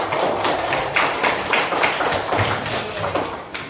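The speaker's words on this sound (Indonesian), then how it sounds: "Beri tepuk tangan untuk kita semua." A primary classroom of children applauding together, with dense, fairly rhythmic clapping and some tapping and thumps, loud and close, lasting several seconds.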